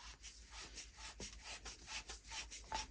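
A quiet, steady run of scraping rubs and small clicks as the regulator of a Snowpeak M25 air rifle is unscrewed by hand, close up and with no talking.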